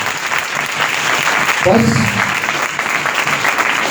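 Congregation clapping together at a church teaching gathering, loud sustained applause, with a voice briefly heard partway through.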